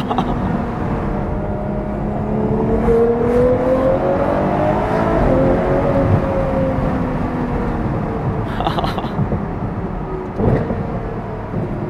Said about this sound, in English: The like snap crack on the downshift.